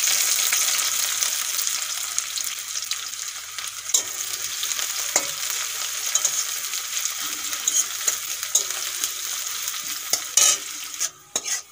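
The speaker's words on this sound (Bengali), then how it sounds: "তেল গরম হয়ে গেছে, এখন পেঁয়াজের ব্রেস্তা বানিয়ে নেব।" Sliced onions fry in hot mustard oil in a kadai for birista, a steady bright sizzle with occasional stirring scrapes and clinks, close and continuous with no talking.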